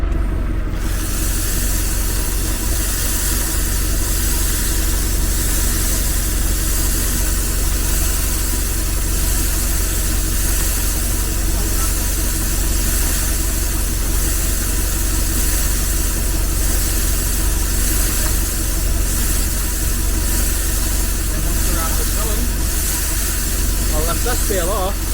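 A tractor-driven bale wrapper spinning haylage bales gives off a steady, loud engine drone with mechanical vibration, continuous and close throughout.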